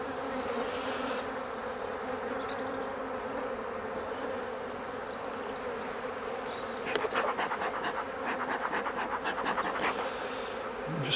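A honeybee colony buzzes steadily during a hive inspection, a dense close-up drone that swells louder toward the end as the bees stir.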